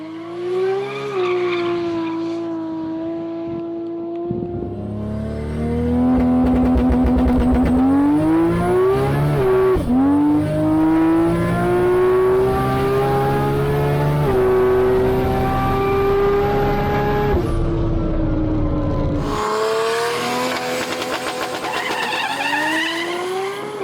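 A Toyota Supra street car with a 2JZ six-cylinder, rear-wheel drive, makes a drag racing run at an airport strip, its engine roaring loud and close as it climbs through the gears, with sharp shifts and rising revs over about twenty seconds.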